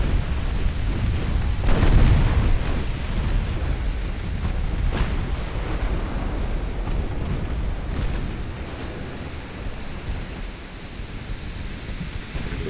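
Battleship guns in a naval warfare game, heavy rumbling blasts with a big boom near the start, then a sustained roar of distant explosions and spray.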